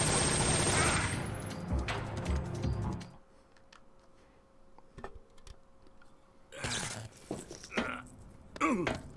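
Patriot gun fired at Volgin in Metal Gear Solid 3, a dense rapid burst of automatic gunfire at the start, followed by quieter scattered shots and clicks and another burst of firing near the end.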